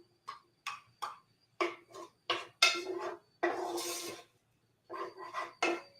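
Green olives get stirred around a pan for an olive and tuna pasta, giving a run of short metallic scrapes and clinks in bursts, then one longer rasping stir, all close and clear with no talk.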